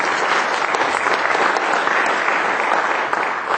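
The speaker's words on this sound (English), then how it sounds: "So give them a round of applause if you would" Audience applause at the 2015 OC Spelling Bee, a loud, sustained, dense round of clapping from a large crowd filling the whole stretch evenly.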